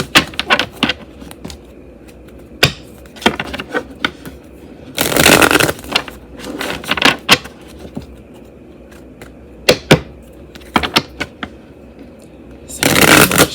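A Hoodoo Tarot deck is shuffled by hand, giving several loud, close riffling bursts separated by quieter shuffles and small taps.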